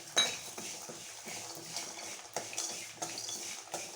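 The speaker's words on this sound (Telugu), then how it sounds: "కొంచెం రోస్ట్ అయిన తర్వాత దీంట్లో నువ్వులు వేసుకుంటున్నాను." Peanuts and sesame seeds roast in a pan for a mint, coriander and tomato chutney, with quiet scraping and stirring strokes that come every second or so over a faint, steady background.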